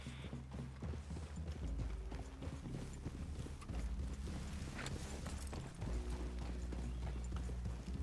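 Horses' hooves clip-clop steadily at a walking pace in Red Dead Redemption 2, faint and continuous, with a low droning background and no talking.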